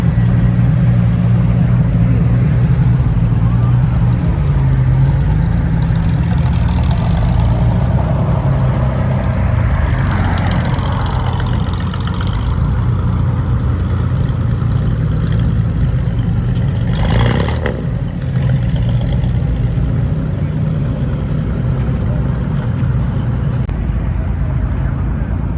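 A blue classic car rolls slowly past at an outdoor car show, its low engine rumble steady and fairly close, with faint crowd voices in the background.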